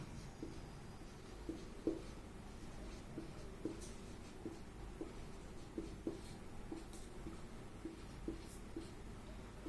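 Chalk or marker strokes on a classroom board during a Hindi-medium Class 9 maths lesson, a steady series of short scratchy taps and scrapes repeating every half second or so, close and fairly faint, with no talking over them.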